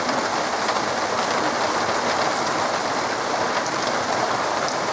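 A heavy summer downpour in Barnaul in August, a dense, constant hiss of rain pouring onto surfaces, close and loud with no let-up and no voices.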